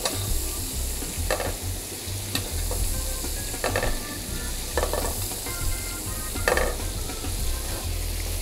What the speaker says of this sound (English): take some of that browning butter and baste the steak in it